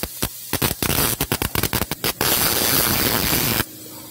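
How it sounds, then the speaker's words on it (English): An arc welder fuses a nut onto a stuck bolt in an engine block, crackling in short bursts and then a sustained hissing sizzle before cutting off. "I'm going to weld it right in there,"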